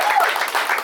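A crowd claps loudly and close at a North Lawndale, Chicago gathering marking a gang peace treaty, forming a dense, continuous burst with some crowd noise mixed in.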